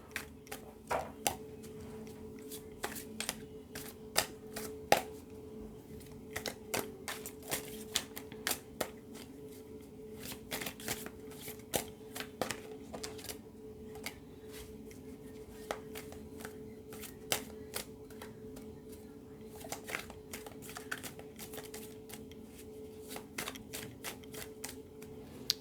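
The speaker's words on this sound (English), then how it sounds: "let us just start by shuffling your cards" Tarot cards being shuffled repeatedly, crisp riffling bursts and taps recurring irregularly over a low steady hum, close and fairly quiet, with no talking.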